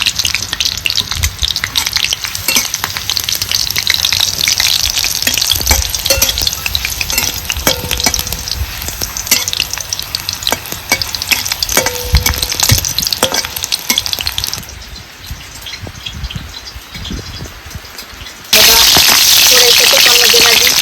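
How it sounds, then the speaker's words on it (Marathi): Calotropis (rui) flowers frying in ghee, a loud crackling sizzle with spoon stirs and scrapes that briefly quiets, then returns as a bright, steady hiss, with a voice speaking at times. "आता ह्याच पद्धतीने का नाही सगळी फुलं मी तळून घेते."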